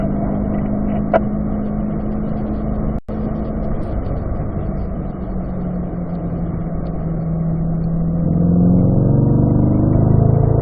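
A car pulls away and accelerates on a race track during a track-day session, its steady engine drone rising in pitch through the gears as it moves toward fourth, loud and continuous with no talking.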